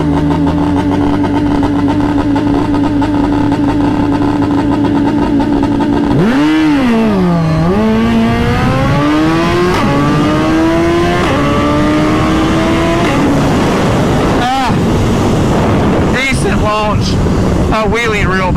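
A 2022 Suzuki Hayabusa with O2 sensors unplugged idles loud and close, then revs hard in rising and falling sweeps, pulling through climbing gear changes at a track.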